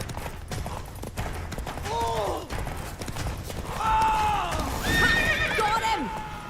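Geralt's horse Roach in The Witcher 3 gives two loud whinnies over galloping hoofbeats, with clattering game effects in the background.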